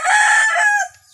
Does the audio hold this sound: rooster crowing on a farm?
yes